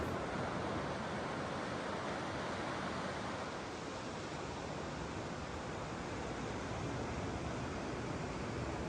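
Ocean surf on the rocky limestone coast of Niue, a steady broad wash of waves rolling in continuously, moderately loud and heard alone with no voices.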